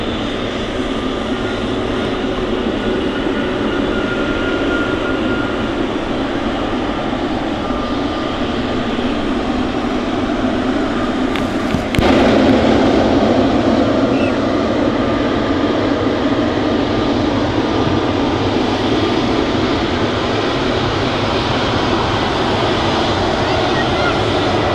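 An Airbus A380 departs Manchester Airport, its jet engines producing a loud, steady, broad roar that holds for the whole stretch, heard live and up close.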